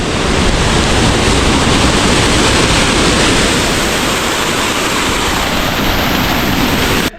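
A turquoise waterfall roars as a steady, dense, loud rush of falling water, continuous and close with no voices over it.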